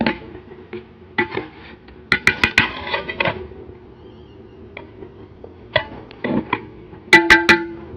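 Metal clinks and clatters from a rice pot and its lid being handled in a home kitchen, sharp irregular knocks in two bursts with quieter shuffling between.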